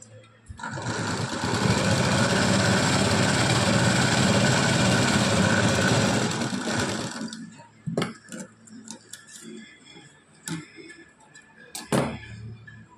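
A sewing machine runs steadily for about seven seconds while laying a double stitch, with a dense, even whir. It stops, and scattered clicks and handling knocks follow.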